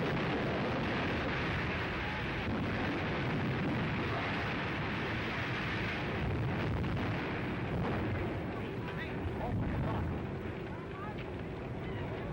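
Fire roaring through a crashing airship in old archival newsreel footage, a dense, continuous broadband rumble and crackle with no clear breaks, filling the whole stretch under a steady wash of noise.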